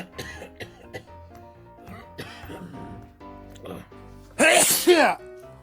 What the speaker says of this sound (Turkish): Evet bir öksürük sesi geliyor. Evet hem de çok yüksek bir ses.